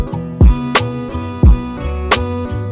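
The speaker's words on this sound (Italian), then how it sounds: "Da questo effetto un po' terzinato, un po' particolare, che rende il sample molto figo." Beat sample in FL Studio run through a doubled Slow Triplet preset, giving a loud, repeating pattern of booming low hits and bright snappy strikes with a lopsided triplet swing, no talking.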